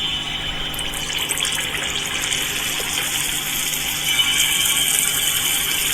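Unniyappam batter sizzles in hot oil in the pan, a steady close hiss and bubbling that holds evenly for several seconds with no voices.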